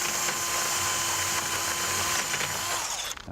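A wheel stud cleaning tool spinning on a lug stud in a garage, giving a continuous loud mechanical whir with a ratcheting, grinding edge that cuts off near the end.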